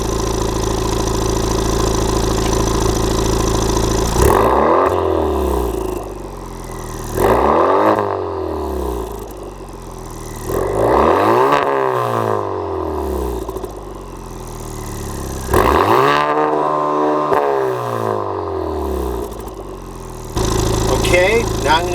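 A Honda Civic Type R with a Remus exhaust and its baffles set 20% open idles loudly, then revs hard four times, each rev rising and falling back to a steady idle.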